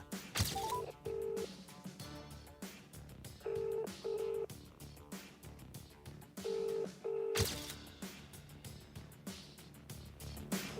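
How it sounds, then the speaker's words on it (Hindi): A phone dials a police station's CUG number, short keypad-style tone bursts recurring in clusters over a busy backdrop of other sounds, moderately loud. "सबसे पहले हमने नोएडा के थाना सेक्टर 24 पुलिस का सीयूजी नंबर डायल किया।"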